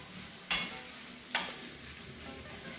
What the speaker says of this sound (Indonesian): Kemudian kita aduk-aduk sampai bumbunya meresap dan agak sedikit masak seafoodnya ini, udang sama cuminya.